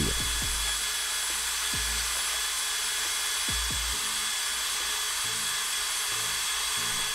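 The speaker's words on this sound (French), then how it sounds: "A l'aide d'une boule abrasive que je mets sur ma perceuse, je ponce l'intérieur de mon pneu" An electric drill fitted with an abrasive ball sands the inside of a tire during a patch repair, a steady high motor whine with several sharp scraping bursts as the ball grinds the rubber.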